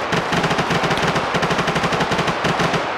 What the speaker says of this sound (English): Oh, fucking sniper fire.